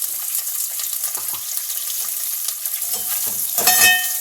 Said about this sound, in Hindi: ये गरम मसाले हल्के फ्राई हो गए हैं।